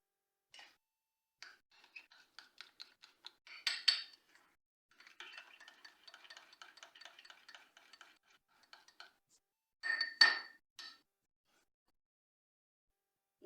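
Ketchup and garlic mayonnaise being mixed in a bowl, with repeated light clinks and scraping stirs in quick runs, two louder bursts of clatter against the bowl, and pauses between, close by with no talking.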